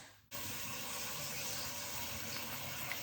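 Water pours steadily into a pot for oat porridge, starting abruptly and running as an even, close splashing stream for a few seconds.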